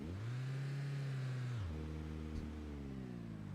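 Car engine in the Project Zomboid video game drones steadily and loudly, then the revs drop sharply and settle into a lower, rougher hum, with no talking.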